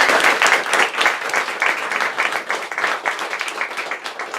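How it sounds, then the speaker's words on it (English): An audience gives a board of volunteers a round of applause: steady, dense clapping from many hands, fairly close, sustained for several seconds with no talk over it. "would you please give our board a round of applause?"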